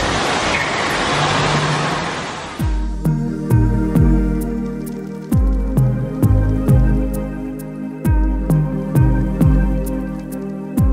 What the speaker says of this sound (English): I just love all the sound of the waterfalls.